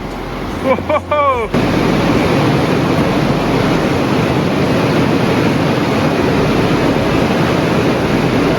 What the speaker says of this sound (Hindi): उस साइड है गोमुख ग्लेशियर, वहाँ से बहती हुई गंगा जी यहाँ से आगे बढ़ रहे हैं।